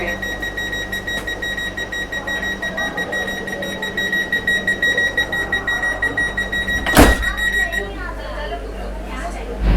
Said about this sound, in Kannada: ಬೀಪ್ ಆಗಿದ್ದೊಂದು 5 to 8 ಸೆಕೆಂಡ್ಸಲ್ಲಿ ಕೂಡ ಡೋರು ಕ್ಲೋಸ್ ಆಗುತ್ತೆ